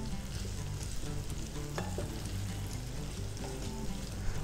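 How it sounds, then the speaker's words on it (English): Saffron and paprika toast in a pan for Spanish paella, giving a close, steady sizzle with the scrape of stirring running through the short stretch, no voices. "So make sure you toast your spices now"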